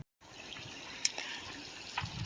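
Water flows steadily in a creek during bad weather, a soft continuous broadband rush at moderate distance with a couple of brief splashy accents, no voices present.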